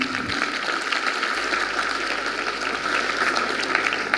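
An audience in a Hindi theatre applauds the actors at the end of a play, with steady, dense clapping throughout and no voices.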